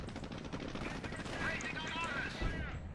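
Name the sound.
gunfire from the video game Company of Heroes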